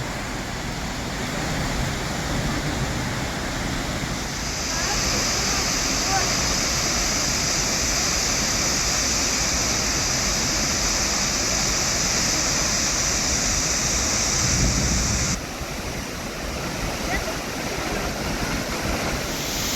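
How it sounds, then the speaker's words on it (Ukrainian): Waterfall in Oregon roaring steadily from close range, a dense continuous rush of falling water that swells louder partway through, with a faint voice now and then beneath it. "Ось тут під водоспадом."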